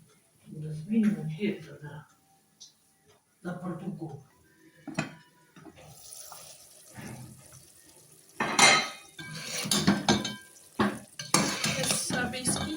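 Cooked food for a Bannu penda curry is scooped from one pot into another, with intermittent scraping, spoon clinks and clattering cookware under a person talking.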